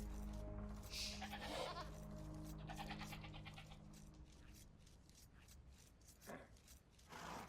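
Sheep bleat in the Age of Empires 2 strategy game, a few wavering bleats over continuous game background sound and music, moderately close, no talking.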